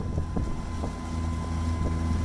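A sailboat's engine runs at full throttle through the Lefkas Canal in Greece, a steady loud drone with throbbing low rumble and wind buffeting the microphone throughout, no voices.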